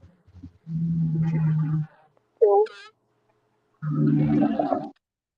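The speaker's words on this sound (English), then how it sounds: "Here's my kitty kitty." A pet cat gives one short meow between stretches of low, close speech, the call brief and clear in a quiet gap.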